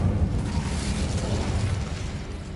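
The Incendio fire spell in Hogwarts Legacy sounds as a loud, sustained roaring burst of flame with a heavy low rumble that fades slightly toward the end, with no voices.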